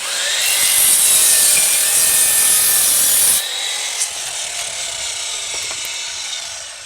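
A hand saw cuts a wooden post for a garden shed to length, with loud, rapid back-and-forth rasping strokes close by that drop to a quieter, rougher scraping partway through.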